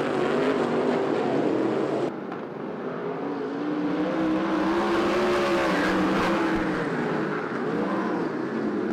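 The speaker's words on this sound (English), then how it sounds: "Hendricks now stalking the second place car, Bruce Douglas." Senior sprint cars race around the Perris Auto Speedway oval, their engines roaring loudly and continuously, with pitch rising and falling as cars pass close.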